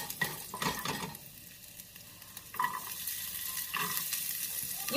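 Garlic and peppercorns sizzle in hot ghee in a pan, frying crackles rising and falling with a few stirring scrapes, close and moderately quiet.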